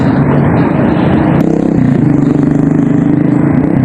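A motorcycle engine roars steadily in a busy street near a mall, loud and continuous with a brief sharp clatter partway through.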